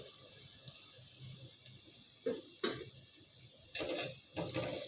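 Chopped garlic tipped into onions frying for a Chattogram-style dish, with a soft background sizzle broken by several brief, louder bursts of stirring and spattering.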